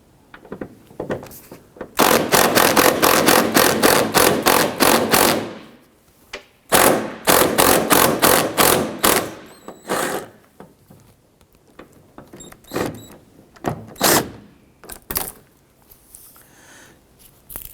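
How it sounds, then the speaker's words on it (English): Removing the liftgate lift support ball stud on a 1999-2004 Jeep Grand Cherokee with a power tool: two long, loud bursts of rapid close-up mechanical rattling, followed by scattered sharper clicks and knocks. "Now we just removed the ball stud with this whole unit here."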